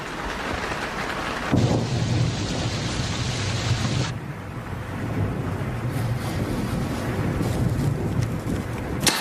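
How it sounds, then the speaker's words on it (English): Heavy rain pours down continuously while deep rumbles of thunder roll through, one loud crack swelling partway in before fading back to steady downpour. "I wish this rain would let up."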